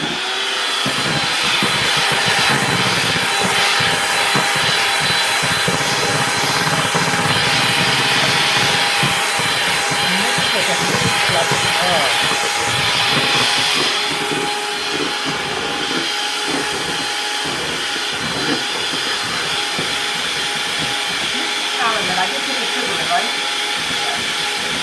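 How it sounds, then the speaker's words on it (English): An electric mixer mixes homemade cupcake batter, a loud, continuous motor whir with grinding texture that dips slightly partway through, while people talk over it. "I'm going to mix this together."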